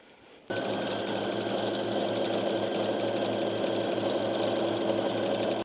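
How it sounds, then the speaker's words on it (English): A sewing machine starts up after a brief moment and runs at a fast, steady, close-up whir while stitching the side seams of a skirt. "I'm going to sew all of the side seams and then I'm going to finish them all as well."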